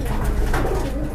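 An old homing pigeon in a racing-pigeon loft gives a short, soft throaty coo over a steady low murmur of other birds close by.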